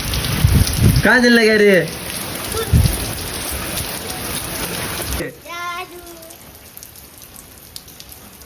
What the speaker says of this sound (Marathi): तेवढा पाऊस आहे बघा